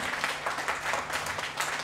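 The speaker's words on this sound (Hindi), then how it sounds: "जोरदार ताली लगना चाहिए" Clapping rises from the audience at a family security seminar in Faridabad, a short, steady burst of many hands with no pauses.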